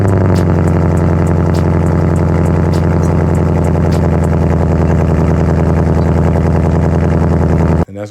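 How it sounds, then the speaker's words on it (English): Ford Mustang drift car on a cold start with its exhaust valves open, a loud, deep, steady rumbling idle held close throughout, cutting off abruptly just before the end. "a little cold start with the valves open"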